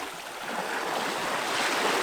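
Sea waves washing into a secluded little cove between high capes, a steady, full rush of surf that swells slightly, close and continuous with no voices.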